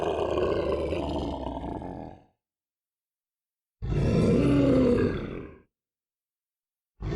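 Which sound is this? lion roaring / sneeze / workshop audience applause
lion roaring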